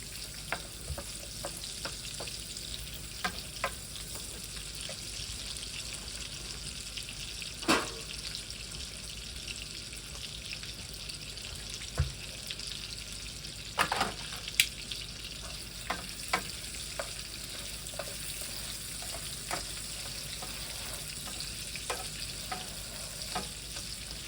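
Food fries quietly in a pan for breakfast, a faint, steady sizzle with scattered small pops and crackles and occasional louder clicks, with no talking.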